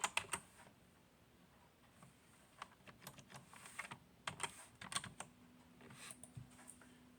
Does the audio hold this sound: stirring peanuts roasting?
no